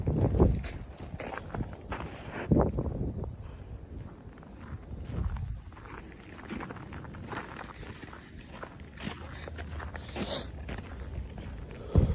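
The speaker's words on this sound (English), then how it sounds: "we clearly hear the sound of his footsteps" A lone man walks through a city at night, his footsteps heard as a steady run of close, distinct steps with some faint background noise and no talking.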